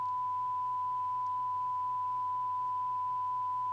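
A steady, pure sine-wave test tone holds at one pitch throughout at an even level, over a faint hiss of dithered quantization noise, with no voices.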